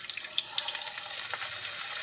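Pearl spot fish (karimeen) coated in masala sizzles steadily in hot oil for a Kerala-style pollichathu, giving a continuous bright hiss with scattered small pops and crackles, close up and without any voices.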